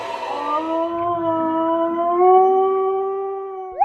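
A dog howls at night for no apparent reason, one long sustained wavering howl rising slightly in pitch, close and loud and heard alone without talk.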